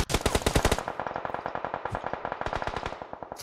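Automatic gunfire rattles in an online shooter video game: loud, rapid bursts of rhythmic shots that are dense at first, then continue as a steady, slightly quieter stream of evenly spaced rounds.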